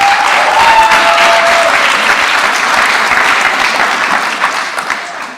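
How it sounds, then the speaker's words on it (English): Parents at an 8th grade graduation give loud, dense applause. It is strongest at the start and fades gradually near the end, with a brief whistle early on. "if you can give yourselves a round of applause"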